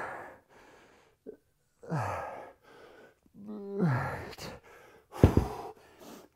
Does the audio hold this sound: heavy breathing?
yes